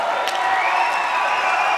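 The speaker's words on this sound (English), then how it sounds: "And the crowd is encouraging" Spectators at a Martial Combat mixed martial arts fight cheering and shouting encouragement in the closing seconds, a dense steady roar of crowd noise with scattered claps.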